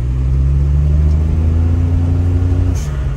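A restored Perodua Kancil L200 car's small engine drones loudly and steadily from inside the cabin while driving, with its tone shifting as revs drop near the end.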